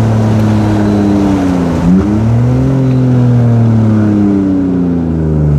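A loud car engine drones and revs, its pitch dipping then climbing again in a sustained, close-up roar with no talking.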